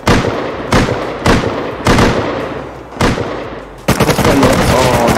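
Gunfire from M249 and M39 weapons in the video game Rust comes as loud, close bursts of rapid shots. Several short volleys are separated by brief pauses, and a denser, sustained burst closes the sequence.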